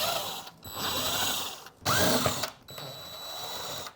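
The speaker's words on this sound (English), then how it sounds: "You can just use the drill to pull them right out." A power drill whirs in several short bursts while pulling large anchors out of a wall, its motor revving up and stopping with brief pauses in between, close by.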